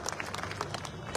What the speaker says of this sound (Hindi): ताली तो बजा दो यार, छोटा बच्चा है